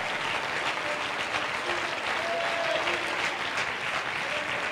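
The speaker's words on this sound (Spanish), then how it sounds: "Yo no sé si usted le puede dar un fuerte aplauso a Dios en esta mañana." A church congregation claps in praise during a Sunday morning service, steady and moderately loud applause filling the whole stretch without letting up.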